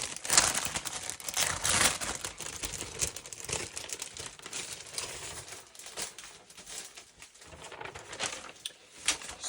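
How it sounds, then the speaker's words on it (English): Decoupage paper being handled and crinkled up close, a steady run of dry rustling and crackling across the whole stretch with sharper crinkles near the start, no voices. "Let me take out my decoupage paper."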